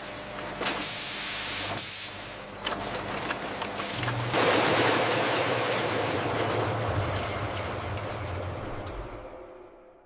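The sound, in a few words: juice bottles being rinsed internally by spray on factory line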